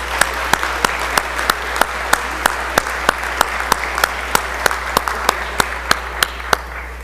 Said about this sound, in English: So let's all give him a round of applause.